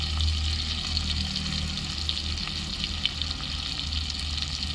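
Onions and spices are sautéing in oil in a pan for a fish curry. The pan gives off a steady, close sizzle with soft bubbling and occasional stirring scrapes, and no one talks over it.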